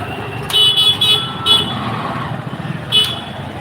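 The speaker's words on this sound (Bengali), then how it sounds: "এই যে শুরু হয়ে গেল জ্যাম। এই দাঁড়ান, এটা হচ্ছে জ্যামের দৃশ্য।" A city traffic jam between Banani and Gulshan: a steady rumble of cars and motorcycles is cut by several short, bright horn toots, some in quick pairs and one more near the end.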